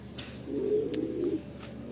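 Racing pigeons give a single low, rolling coo, close and fairly loud over quiet background hiss.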